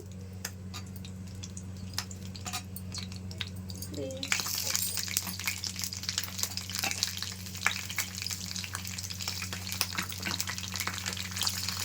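Peanuts and torn green chillies fry in hot oil with a constant close sizzle that grows louder midway, with crackles, pops and a steady low hum beneath.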